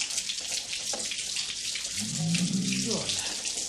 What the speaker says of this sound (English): keep the water on his head and shoulders, please